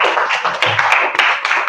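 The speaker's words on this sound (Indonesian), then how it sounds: "Silakan berikan tepuk tangan yang meriah untuk penanda Azril." Students applauding in a classroom, a steady patter of many hands clapping close by for about two seconds with no talk over it.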